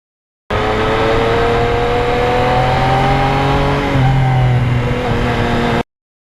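A 2020 Yamaha MT-09 motorcycle rides a back road, its engine droning loud and steady with rising revs and a brief gear change partway, heavy wind rush behind it.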